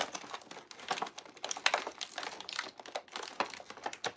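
Tape peels and crinkles off toy packaging in a quick series of sharp tearing and rustling bursts, close and busy throughout with no voice.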